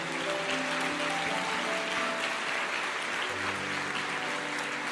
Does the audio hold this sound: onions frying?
no